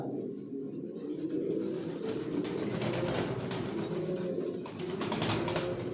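Pigeon chicks of a racing breed coo and shuffle in a loft, a steady close murmur of soft cooing and rustling movement that carries on throughout.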